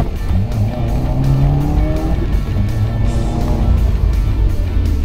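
A 2015 Subaru WRX runs hard at the track, with the engine held at full throttle through flat foot shifts to keep boost. Its loud, continuous roar rises and falls with gear changes, and tire noise comes and goes underneath.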